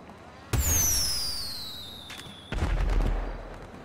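Fireworks going off in the GTA 5 video game: two sharp bursts about two seconds apart, each with whistling streaks and crackling decay, fairly loud and with no talking.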